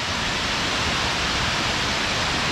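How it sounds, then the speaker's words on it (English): A roaring waterfall on a mountain hiking trail fills the air with a steady, loud, unbroken rush of falling water, close by and without any voices over it. "We are back to the front of the waterfall."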